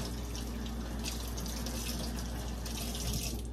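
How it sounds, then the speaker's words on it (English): A kitchen tap runs steadily while hands are washed during cooking, giving a loud, continuous close-up rush of water with slight splashing changes and no talking. "Now, let me wash my hands."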